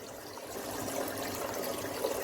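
Water pouring steadily into a distillery's cooling system, a continuous broad rushing trickle at close range with no talk over it.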